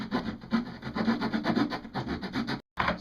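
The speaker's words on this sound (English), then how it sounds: "At least have a little saw, and then you just start cutting through. So I'm going to go ahead and cut this right now" A small hand saw cuts through a plastic ferret litter box in steady back-and-forth rasping strokes, close and loud, with a brief pause near the end before the sawing resumes.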